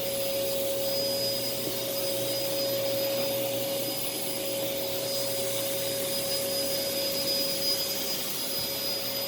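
A Sanyo SC30 vacuum cleaner runs steadily in a living room, with a loud, constant motor whine and a high tonal hum that stay unbroken throughout.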